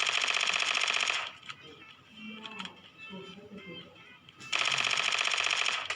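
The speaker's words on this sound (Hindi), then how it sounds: "तो इस वाली बिल्डिंग में से काफी देर से फायरिंग चल रही थी" Gunfire from inside a building in PUBG Mobile, heard as two loud sustained bursts of rapid, harsh shots at the start and end, with quieter scattered clicks and game sounds between them.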